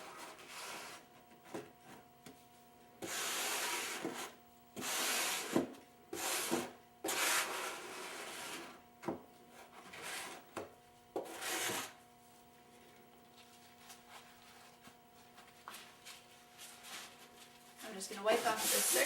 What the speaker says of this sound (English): you're going to use your oil scraper and just scrape the surface of all of the oil into